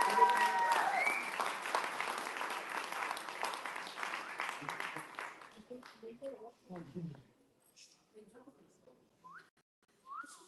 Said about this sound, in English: So please, a round of applause for him.